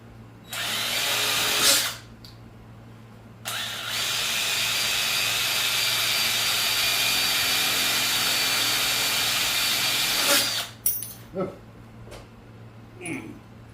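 A power drill drives a screw through a washer held in place by hand, with no center punch or pilot hole: a sustained loud whine for several seconds after a brief earlier burst, ending in short clicks and taps.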